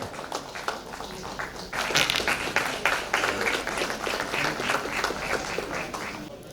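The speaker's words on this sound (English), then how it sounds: "A big round of applause to Sanjay and his wife Vaishali" An audience at an evening launch event applauds a couple, the clapping starting softly, swelling after a moment and holding steady at moderate volume, heard from a little distance.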